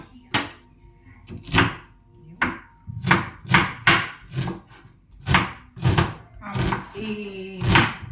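An onion being chopped on a wooden board with a blunt kitchen knife, about a dozen firm, separate thuds in an uneven rhythm, close and clear, with a brief voice near the end.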